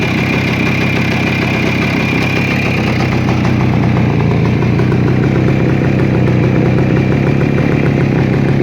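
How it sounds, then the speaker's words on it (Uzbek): A Voskhod motorcycle engine idles steadily up close, a loud continuous low putter with a fast even pulse and no voices over it. "Hozir yurg'izaman, eshitib ko'rasiz."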